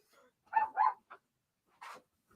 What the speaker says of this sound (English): Oh, the doggies are barking.